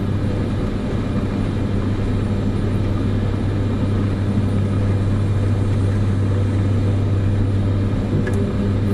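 A propeller aircraft climbing after takeoff in Microsoft Flight Simulator 2024, its engine a loud, constant, even drone that holds steady throughout with no talking.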